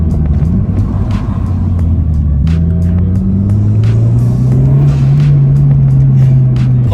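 A loud, close 10th-generation Honda Civic Si engine rumbles and revs, its deep exhaust note through a catless downpipe climbing steadily in pitch after a shift.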